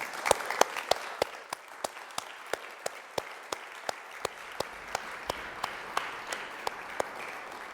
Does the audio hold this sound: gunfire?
no